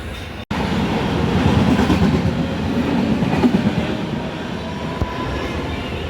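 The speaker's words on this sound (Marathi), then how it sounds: "सो ये थी बहुत ही फास्ट तड़कती भड़कती ट्रेन और सामने से गई" Loud, roaring rush of a fast train passing close by near Khopoli, a dense rumble with rhythmic clatter of wheels on rails, sustained throughout.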